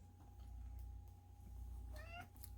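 A house cat gives one short rising meow near the end, faint against a steady low background hum.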